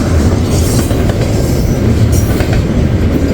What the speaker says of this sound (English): Westbound BNSF-Z on the Aurora subdivision.